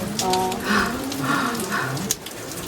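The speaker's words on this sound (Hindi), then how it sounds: "यहाँ थोड़ा वाटरफॉल का पानी भी स्प्लैश हो रहा है" Steady, dense splashing water roars close by from inside Staubbach Falls, Lauterbrunnen, with a voice murmuring briefly under the rush.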